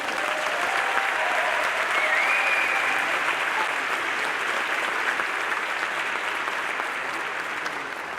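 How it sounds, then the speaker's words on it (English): Steady, loud applause from a large crowd, continuous clapping that holds for several seconds without letting up. "I'm delighted by the applause"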